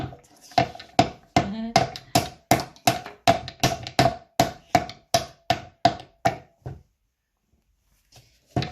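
A wooden toy hammer from a Melissa & Doug toolkit strikes a wooden piece in a fast, even series of about fifteen sharp, close knocks, then stops, with one more tap after a pause.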